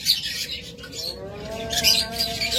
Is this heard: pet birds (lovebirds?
yes